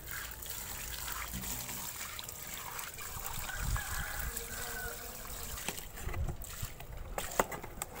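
Cold water is poured and splashed out on a rooftop where it has pooled, giving a continuous trickling, sloshing wash at close range with a few knocks.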